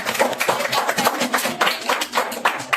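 Audience clapping at a youth center debate contest, a dense steady patter of many hands at close range with no talk over it.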